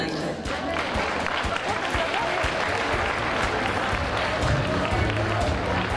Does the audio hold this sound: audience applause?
yes